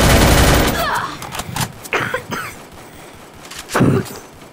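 Automatic gunfire in the mobile battle royale game Free Fire, with a dense burst of rapid shots followed by scattered single and double reports, loud and close, while a player's voice calls out over the action.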